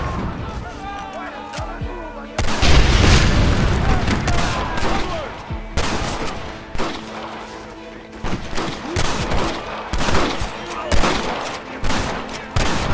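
Heavy Gatling gun fire in Red Dead Redemption 2, dense rapid bursts with booming impacts that start abruptly and continue in waves under shouting game voices.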